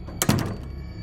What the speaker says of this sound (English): then I heard the front door slam